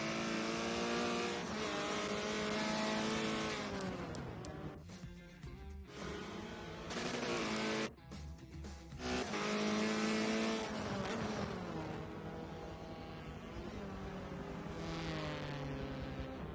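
Formula Mazda race car engines in a racing sim whine and rev hard through the corners, pitch climbing and dropping with gear changes and brief lifts off the throttle, loud and close for the whole stretch.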